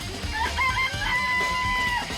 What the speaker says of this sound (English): Chickens in there.